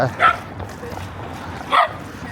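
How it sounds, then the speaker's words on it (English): A dog gives two short, sharp yips close by, one near the start and another near the end, with low background rustle between them. "oh, the dog attacked me."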